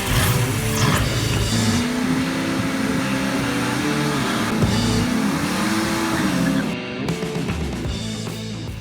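A V8-swapped GMC Sonoma S10 pickup accelerates hard with violent wheel hop, its engine roaring loud and close while its pitch climbs and wavers, and a rapid shuddering judder runs beneath before the sound eases off.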